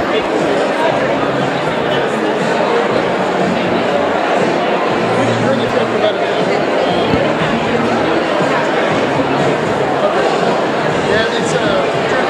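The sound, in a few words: crowd of people chatting and mingling at a business event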